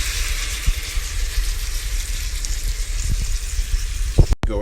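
Sauce sizzles and bubbles steadily around baked chicken wings in a hot pan, a dense continuous crackle with a few louder pops near the end.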